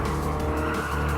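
A small classic car, the Yota-Hachi, races in Gran Turismo Sport with a steady, loud engine drone and tire squeal throughout, alone without voices.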